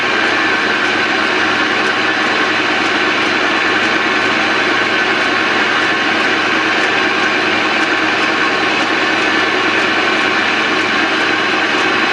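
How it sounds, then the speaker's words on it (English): A Pratt and Whitney lathe runs in reverse with a steady, even mechanical drone that stays constant and fairly loud throughout, with no voices. "Reverse the lathe."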